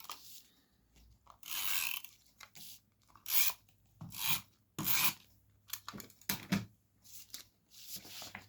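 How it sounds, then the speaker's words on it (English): A tape runner applying adhesive during card making, heard as a series of close, loud, raspy rubbing strokes, each about a second long, separated by short pauses, with no talking. "use the tape runner."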